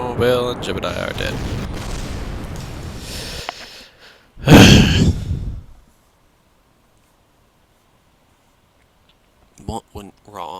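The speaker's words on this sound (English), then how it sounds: "I think this is going to be an explosion." A rocket explodes in the video game Kerbal Space Program: a short, loud, roaring burst rises out of a rumbling noise, lasts about a second and a half, then fades to near silence, with brief talk before and after.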